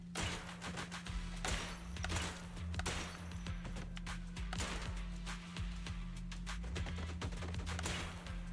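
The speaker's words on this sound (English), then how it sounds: "Single shot, blue flash, another single shot, rapid fire really triggered." Gunfire at a shooting range mini game in Zenless Zone Zero, repeated sharp shots in quick bursts over a low steady hum, moderately loud and evenly spaced throughout.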